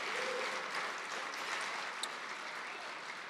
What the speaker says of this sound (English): let's give a big round of applause for the IGFA staff